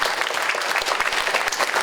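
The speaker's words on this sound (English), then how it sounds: "a round of applause, please, for Nick and all the organizers of the conference" Dense, steady applause from a conference audience at an academic plenary session on ancient Greek thought, many hands clapping close together at an even loudness throughout.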